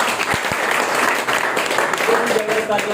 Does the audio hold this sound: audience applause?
yes